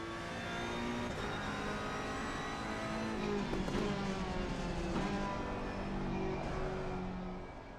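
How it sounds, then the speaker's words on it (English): A 2018 Ferrari 488 GT3 race car engine in the racing game Assetto Corsa Competizione, a loud continuous whining engine note holding high revs with shifting pitch, heard alone without speech. "The next car on our list is the 2018 Ferrari 488 GT3. Per usual, we'll start with a sound check."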